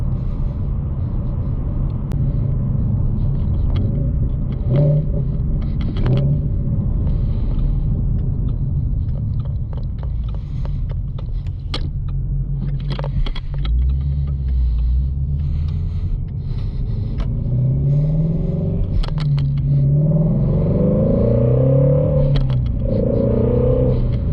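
A Shelby Mustang GT350 with its stock exhaust drives along, a deep, continuous engine rumble from inside the car that swells and falls as it revs, with road noise and a few clatters over it.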